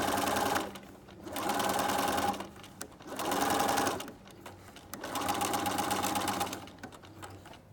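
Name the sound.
sewing machine stitching around a mitered table napkin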